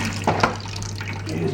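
Running water splashes steadily from a tap, with brief clinks and scrubbing of glass with an old scourer under the flow, a low hum beneath.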